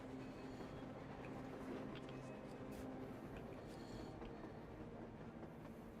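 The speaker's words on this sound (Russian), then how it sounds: "Паровоз! С ума сойти, паровоз!" A steam locomotive in the video game Metro Exodus rumbles and clatters steadily as it approaches, a dense continuous roar with faint voices mixed in.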